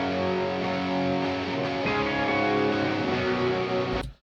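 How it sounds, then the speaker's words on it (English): Thick, sustained distorted electric guitar chords from two distortion tracks, one panned right and one left, play loudly and continuously, then cut off abruptly at the end. "Here's the electric guitars."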